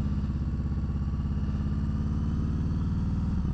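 A Harley-Davidson Sport Glide motorcycle engine runs steadily with a deep, loud, pulsing rumble and an even throb throughout, close to the listener and with no talking.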